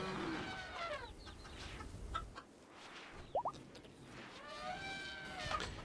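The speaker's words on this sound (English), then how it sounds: "So there's plenty of hens laying some eggs." Chickens and laying hens cluck in RimWorld, quiet layered calls over a soft background hum, with a couple of sharper clucks near the middle.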